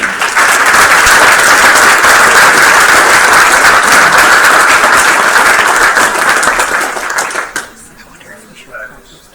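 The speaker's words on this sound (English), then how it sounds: "need to give her one more round of applause" A board meeting audience gives a round of applause, a loud dense burst of clapping that holds steady for several seconds, then fades out into room sound with faint voices.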